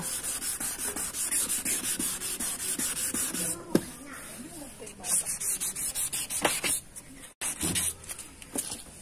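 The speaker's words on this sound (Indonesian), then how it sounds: "kita amplas dulu ini supaya lapisan luarnya terangkat semua" Sandpaper rubs over a yellowed, dull car headlight lens in steady back-and-forth strokes, close and fairly loud, with brief pauses and a sharp tap partway through.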